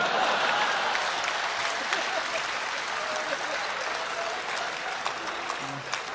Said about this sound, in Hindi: ताली तो आप इस बात पर बजाएंगे